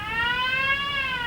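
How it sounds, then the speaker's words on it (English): The initial alarm of a two-stage factory fire alarm system sounds as a loud, steady electronic tone with rich harmonics. It drifts slightly in pitch and holds continuously without pauses. "it sounds an initial alarm that sounds like this"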